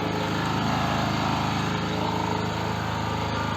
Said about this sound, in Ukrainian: зараз я запускаю генератор і ми дивимося, як це все працює